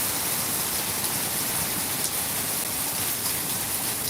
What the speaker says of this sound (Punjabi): ਬਹੁਤ ਤੇਜ਼ ਮੀਂਹ ਸੀਗਾ